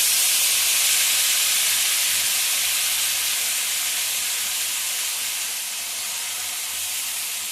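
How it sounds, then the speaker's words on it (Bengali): Ground nut paste hits hot, fried dry spices in a pan while cooking palak dum aloo, giving a steady, loud sizzling hiss that fades only slightly and continues unbroken throughout. "এবার আমি দিয়ে দেবো বাদাম বাটাটা"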